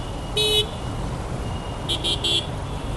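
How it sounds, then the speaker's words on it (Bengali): Two short motorcycle horn honks from a Suzuki Gixxer SF Fi ABS in a traffic jam on a bridge, over steady road traffic noise, the first single and the second a quick triple burst, fairly close. "যেন একটু হর্ন দিয়ে নিলাম"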